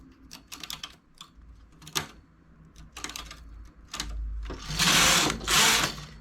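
A knitting machine carriage working a row of lace-patterned knitting, a series of rapid mechanical clicks and clatters building into a loud, sustained whooshing sweep at the end, close and with no voices.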